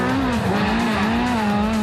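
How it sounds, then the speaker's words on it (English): A rally car at the 2007 NZRC Rally Nelson drives fast through forest. The engine drones loud and close at high revs with a steady note and no talk. "Car sounds magic going through the forest."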